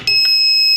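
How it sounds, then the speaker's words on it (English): A homemade DIY door alarm lets out a loud, steady high-pitched electronic beep the moment the door opens, sustained and close without interruption, with no voices. "the beep will start"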